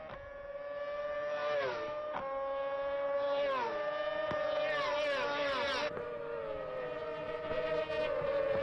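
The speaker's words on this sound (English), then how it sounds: "Great to hear these high-revving 600cc machines, all Yamaha power, of course." High-revving 600cc Yamaha-powered sidecar racing outfits race at the TT Circuit Assen during the 2024 Sidecar World Championship. Several engines howl past in sequence, their pitch climbing and dropping through gear changes before one steady high drone holds.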